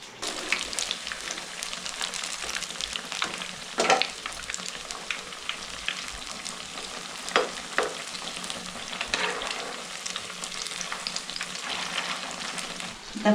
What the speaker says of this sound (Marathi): आता फुल गॅसवर आपण चांगले भाजून घ्यायचे कलर येईपर्यंत